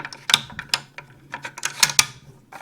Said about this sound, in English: Put your handle in first. It goes in quite similar to an AR. And then your bolt.